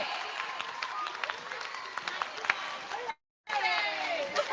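A school audience at a Teachers Day celebration claps steadily for both teams, a dense, lively wash of applause with crowd noise that breaks off briefly near the end and then resumes.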